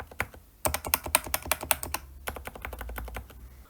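Fast, crisp keystrokes on a Keychron K8 Pro mechanical keyboard sound up close in quick bursts, with a short pause partway through. No one speaks.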